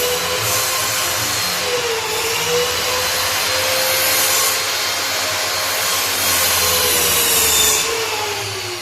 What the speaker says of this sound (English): having awoken to the sweet chirruping sound of Dad's skill saw